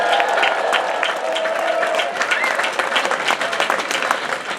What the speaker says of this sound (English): can we give another round of applause for Brascadia?